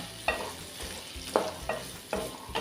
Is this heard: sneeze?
no